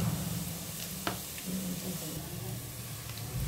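Asafoetida dropped into hot oil for tempering gives a steady, soft frying sizzle, one brief crackle partway through, with a low hum underneath.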